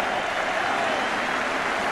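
A football crowd at White Hart Lane applauds as Spurs finish a 3-1 home win, a dense, steady wash of clapping from many hands that continues without a break.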